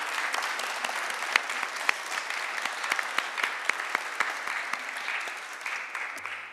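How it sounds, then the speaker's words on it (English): An audience gives sustained applause for a choir and a pianist. Steady, dense clapping with a few sharper individual claps continues at an even level throughout. "Let's give them all a round of applause."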